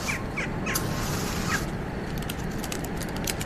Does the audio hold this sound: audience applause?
no